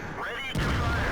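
A tank's main gun fires in the video game World of Tanks, a single heavy booming shot that starts abruptly partway in and leaves a loud rumbling tail.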